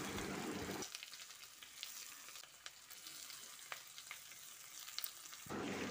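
Peanuts and boiled mashed potatoes frying in a pan while being stirred, a soft steady sizzle with scraping stir strokes, faint and close, no voices.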